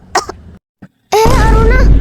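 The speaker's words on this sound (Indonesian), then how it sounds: "kok kamu bisa batuk sih?" In a Sakura School Simulator drama, a character coughs after eating fried banana while talking. A couple of short, sharp coughs come first, then a brief pause and a longer strained, groaning vocal sound up close.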